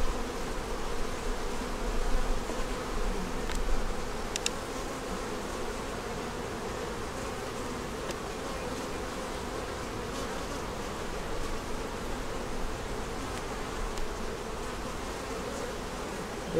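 Honeybees drone in a steady, dense hum around an opened hive during a honey pull and queen check, the buzzing close and continuous for the whole stretch with a few brief sharper clicks, no voices.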